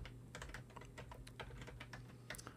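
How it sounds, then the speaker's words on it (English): Rapid, close typing on a computer keyboard while entering a name into a case-entry database, with a quick irregular rhythm of many light keystrokes and no talking. "For example, if I type in Robert Smith,"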